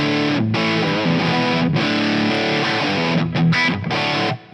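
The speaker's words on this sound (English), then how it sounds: "It is high gain distortion." An electric guitar plays through a high-gain distortion amp model, the Angry Chaka on a Fractal Axe-FX III, loud dense chugging chords with brief cut-off gaps, ending abruptly.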